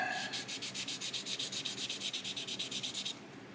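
Sanding sticks rub over a plastic 1/350 scale model part of a battleship's main armament in quick, regular back-and-forth strokes, about twenty rhythmic passes heard close and clear before stopping.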